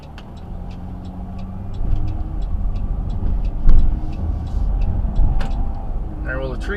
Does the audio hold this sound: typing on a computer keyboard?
no